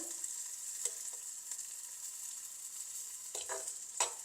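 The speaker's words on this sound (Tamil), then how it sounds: "இப்போ இதெல்லாம் பொரியுது பூண்டு வெங்காயம் பச்சை மிளகாய் எல்லாம் பொறிஞ்சு வதங்கி கொண்டு வருது" Garlic, onion and green chilli fry in a clay pot with a soft, steady hiss. Occasional stirring scrapes and clinks come through, and no one speaks.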